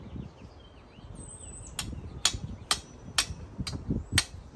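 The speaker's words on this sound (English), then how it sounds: "So hammer until you get up to here." A wooden stake is driven into garden soil with a hammer, giving about six sharp, evenly spaced knocks outdoors, with faint birdsong and insect sounds behind them.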